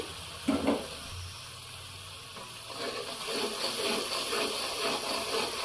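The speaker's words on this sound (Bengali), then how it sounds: "তেলটা গরম হয়ে আমরা পেঁয়াজ বাটা দিয়ে দিচ্ছি" Onion and green chilli paste drops into hot oil for a spicy chicken curry, giving a soft crackle and sizzle that builds into a steady frying hiss, fairly quiet with a few knocks at the start.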